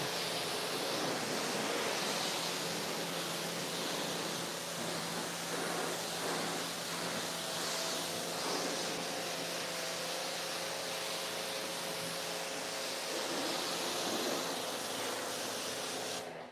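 Steady broad hiss of a water spray rinsing dirt off a roof, loud and unbroken for the whole stretch, rushing like surf, with no talk.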